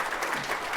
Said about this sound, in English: give a big round of applause for Gabriella